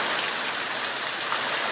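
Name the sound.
heavy rain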